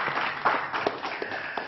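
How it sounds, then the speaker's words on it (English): Studio audience clapping for quiz contestant Kofi after a correct answer. The applause is soft and slightly muffled, a steady patter with a few louder claps. "Round of applause for Kofi."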